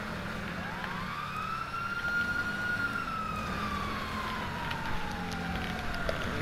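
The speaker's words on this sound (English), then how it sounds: "didn't he have my sirens on?" A police car siren in the video game Grand Theft Auto V, a single long rising and falling wail over steady engine and road noise during a highway pursuit, moderately distant.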